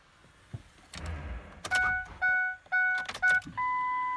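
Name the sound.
Ford ignition key being cycled off and on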